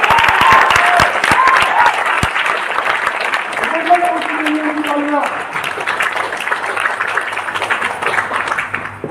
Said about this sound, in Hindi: एक जोरदार तालियां दीजिएगा।